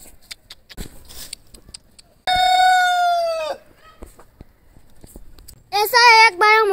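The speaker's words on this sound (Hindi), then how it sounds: "हमारे मौसुकाने में मुर्गिया दिखाता हूँ।" Chickens in a village coop in Gilgit cluck in scattered short bursts between two loud, close rooster crows, one sustained and one shorter near the end.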